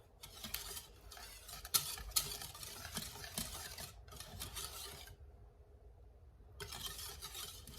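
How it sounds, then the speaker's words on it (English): A spoon scraping and rasping around a pot of homemade cheese sauce on a hot burner, in steady stirring strokes that pause for a moment before resuming; close and fairly quiet, with no talk. "I'm going to set it back on this hot burner and just stir it and let it melt"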